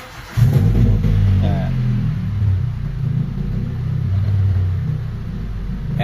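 A Honda Civic engine cranks and catches, then settles into a steady, rumbling idle with a slight unevenness. A voice speaks briefly over the engine.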